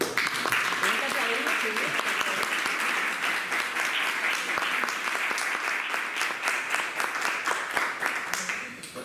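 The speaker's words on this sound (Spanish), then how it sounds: "Te podemos aplaudir otra vez si quieres" An audience claps after a talk in a STEAM lecture series at an art school in Almería, giving sustained close applause with dense rapid hand claps while voices speak over it.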